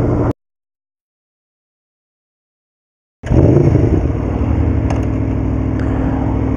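After a short burst and about three seconds of silence, a 2011 Aprilia Tuono V4 APRC motorcycle engine roars loudly and keeps running at a steady, throaty pitch.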